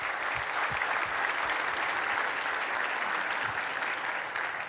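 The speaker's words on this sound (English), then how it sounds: "let's just give them a round of applause real quick" Conference keynote audience applauding sponsors, a dense, even wash of many hands clapping at moderate distance, sustained throughout without a break.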